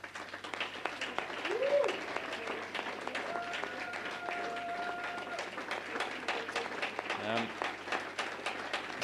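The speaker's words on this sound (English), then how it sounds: "she got a resounding round of applause from the front of the room" Audience applause breaks out for a staff member standing up at a prize event, a steady close clapping that carries through the whole stretch while a voice talks over it.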